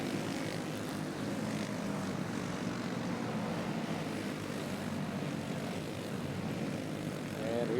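Racing karts run down the front straightaway at Coleridge Speedway, giving a faint, distant, steady engine drone that carries on without a break.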